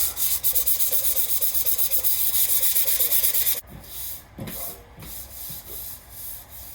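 Primer on a car body being hand-sanded, a fast rhythmic rasping rub for about three and a half seconds, then a few slower, softer strokes.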